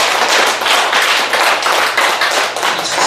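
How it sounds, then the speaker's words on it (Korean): An audience at a speech lecture claps in loud, rhythmic bursts, clustered group claps repeating about every half second, close and punchy with no talk over them. "박수, 리액션."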